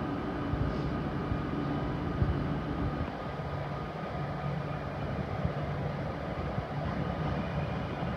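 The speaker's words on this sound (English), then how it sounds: "The train is now approaching." A London Overground Class 710 electric train pulls into a platform, a steady broadband rumble of rolling wheels and motors holding level throughout, with faint low hums and no voices.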